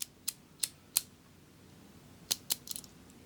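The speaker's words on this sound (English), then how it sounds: "I love the sound of those pins clicking into their special positions" A key slides into a lock, its teeth pushing the pins up and down, giving a series of sharp, close metallic clicks: three spaced ticks, a pause, then a quicker cluster of clicks near the end.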